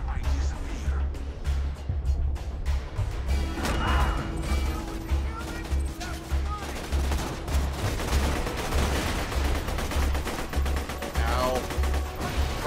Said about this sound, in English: there's a turret shooting us.